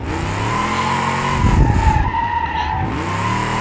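Classic muscle drift-spec car in the BeamNG driving game, engine droning steadily while tires squeal and skid through a drift, loud and close with a rougher burst midway.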